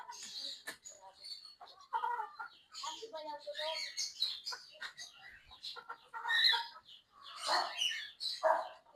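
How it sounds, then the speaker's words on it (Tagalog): Chickens on a farm cluck and squawk in overlapping bursts, a busy, fairly close flock calling continuously with occasional sharper rooster-like cries, with no talking. "Daming manok, oh."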